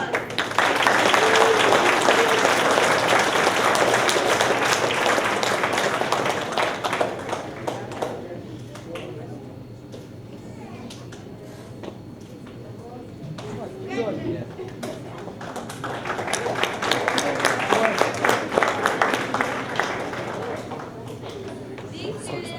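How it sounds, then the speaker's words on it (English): An audience at an 8th grade graduation ceremony claps in two loud swells of applause, the first fading to quiet murmuring before the clapping builds again near the end. "Let's give them a round of applause."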